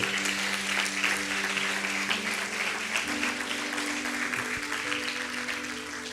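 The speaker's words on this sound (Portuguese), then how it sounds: "Quem pode aplaudir ao Espírito Santo?" A church congregation breaks into dense, sustained applause that fills the space at steady loudness, with held keyboard tones sounding underneath throughout.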